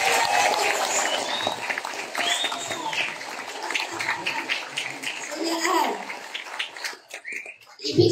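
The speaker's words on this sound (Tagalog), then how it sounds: "bibigyan natin sila ng masigabong palakpak" Crowd applause honoring the grandfathers at a large Sulu royal gathering, steady clapping over a murmur of voices and children, fading near the end.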